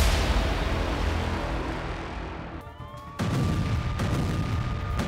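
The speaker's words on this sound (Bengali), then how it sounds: "ঘন ঘন বিস্ফোরণের শব্দ," Repeated explosions during the Iran-Israel war form a dense, continuous rumbling roar that briefly drops away before surging back loud to the end.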